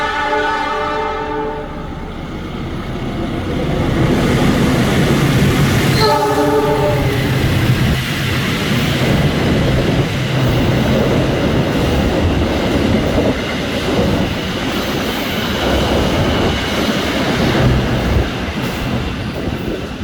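Train overtaking the Kutojaya Selatan train near Kebumen, heard from on board: a horn sounds twice at the start, then a loud continuous roar and rumble of passing carriages with rattling wheels.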